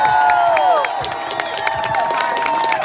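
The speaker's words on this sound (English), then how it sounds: "How about a big round of applause for Mark McCormick, guys?" A crowd applauds and cheers for Mark McCormick, whistles and shouts rising over steady clapping, with a voice speaking through the noise.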